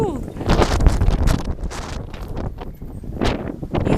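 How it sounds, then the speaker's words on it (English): Strong outdoor wind buffets the microphone in loud, uneven rumbling gusts, swelling and easing repeatedly over a few seconds. "So I'm gonna try my best to talk over the wind"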